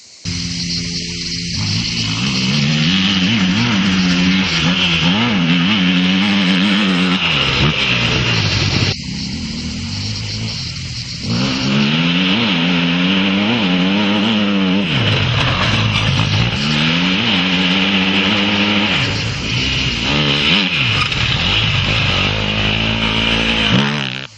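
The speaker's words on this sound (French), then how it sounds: "on pourra accélérer franchement sans être traîné par la moto" An enduro motorcycle engine revs hard and repeatedly, its pitch rising and falling as the bike accelerates close by, with brief drops between bursts.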